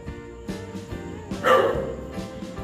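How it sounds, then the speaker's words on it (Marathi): A dog barks near a Datta temple, a few sharp barks spaced over a couple of seconds, one louder yelp standing out against quiet background noise. "अरे कुत्रे का भुकते मला काय माहिती."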